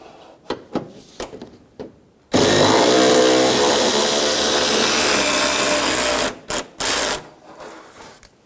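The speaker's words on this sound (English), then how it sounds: "Remove the 10mm bolt for the antenna base." A power tool loosens the 10mm bolt holding the antenna base on a 2005-2015 Toyota Tacoma behind the pulled-back inner fender liner, whirring loudly and steadily for about four seconds between short clicks and handling noises.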